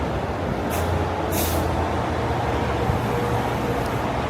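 A city bus on a rush-hour Manhattan street lets out two sharp hisses of air brakes over constant loud traffic rumble and engine drone.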